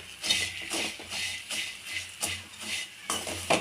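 Spicy puffed rice is mixed with tomato in a pot off the heat, giving rhythmic rustling, scraping strokes about twice a second. Faint utensil clinks sit under a soft sizzle.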